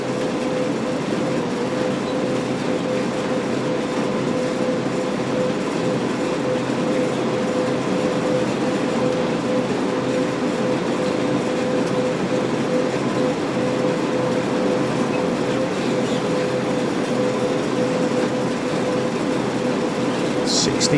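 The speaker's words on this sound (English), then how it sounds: "I'm loving the sounds in this Train Sim World 3." A BNSF ES44C4 diesel locomotive in Train Sim World 3 runs steadily on the Cajon Pass route from Barstow to Victorville, with a constant engine drone and rumbling rail noise throughout at even loudness.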